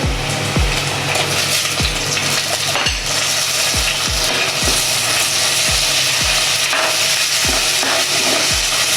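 Tomatoes sizzle steadily in a hot pan for a country chicken curry. Loud continuous frying hiss is broken by repeated wooden scraping and stirring knocks at irregular intervals, with no talking.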